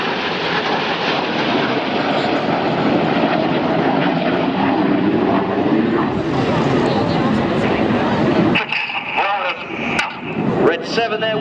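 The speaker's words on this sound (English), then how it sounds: "flying his jet only 8 feet away from Red 6, but doing it while he's upside down" Red Arrows display team jets at the Eastbourne airshow roar overhead in a loud, continuous engine rush that swells and fades, and a commentator talks over the noise near the end.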